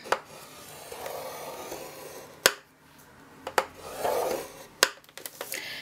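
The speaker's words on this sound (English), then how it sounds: "I'm going to score this at 1 inch and at 4 1/4" Paper is scored on a scoring board while making gift enclosure cards, a few short scraping strokes separated by sharp clicks and taps, close and fairly quiet.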